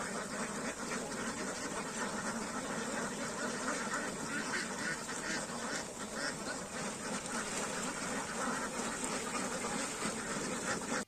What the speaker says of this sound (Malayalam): ഓരോ കൂട്ടങ്ങളിലും ആയിരം മുതൽ നാലായിരം വരെ താറാവുകളാണുള്ളത്